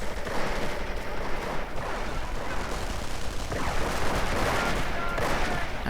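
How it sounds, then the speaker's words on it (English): Grenade blasts and machine gun fire rattle through a World War II strategy game battle in dense, continuous volleys of overlapping shots and explosions at a moderate level, with no voices. "Grenades getting exchanged. Light machine guns getting dropped."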